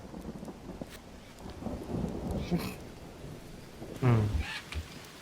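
Rain keeps falling in the jungle survival game Green Hell while thunder rumbles, swelling to a heavy, close crack around the four-second mark. A voice murmurs briefly under the storm.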